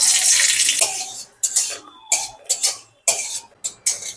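Green chillies fry in hot mustard oil in a wok, a loud continuous sizzle at first that breaks into a series of short spitting crackles and bursts.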